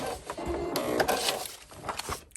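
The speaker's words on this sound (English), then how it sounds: "Do a little back stitch." A sewing machine running a short back stitch while piecing a quilt block, a quiet mechanical whirring chatter with a few faint clicks, fairly soft and steady for a couple of seconds.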